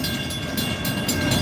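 Freight train with a yellow Conrail auto rack car rolling past: a loud, close, steady rumble with brief rhythmic bursts of wheel noise, no speech.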